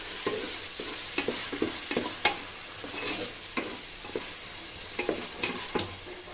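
Tomatoes stirred and cooking down in a hot pan for chicken fry piece biryani, with a steady sizzle under repeated scraping strokes of a spoon, close and moderately loud, no voices.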